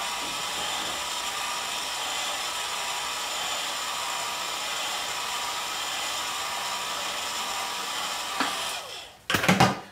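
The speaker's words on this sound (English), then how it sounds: "I give it some heat treatment to take the stress out of the wire, the nylon." Steady, loud blowing hiss of hot air used to heat-treat a nylon pottery cut-off wire, running continuously for about nine seconds before cutting off, followed by a brief clatter.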